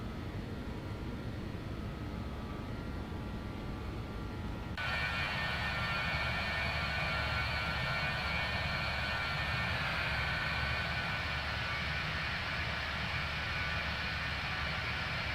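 Jet engines of a JustFlight BAe 146 airliner climbing in X-Plane 11, a steady broadband roar with a whine on top that jumps abruptly louder partway through and then holds constant, with no voices.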